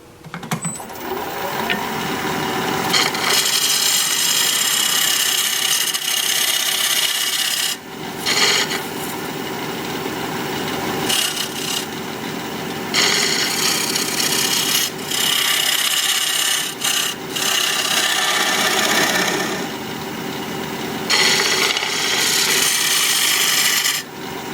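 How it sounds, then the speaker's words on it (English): A tool scrapes a walnut spittoon bowl spinning on a wood lathe, making a loud, continuous rasping, with a few short breaks between passes. "I'm probably just going to have to scrape this transition here."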